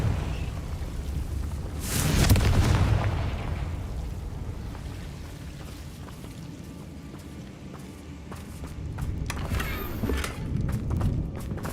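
The Confringo blasting spell in Hogwarts Legacy sets off a loud rumbling explosion. A second booming burst follows several seconds later amid ongoing crackling in-game noise.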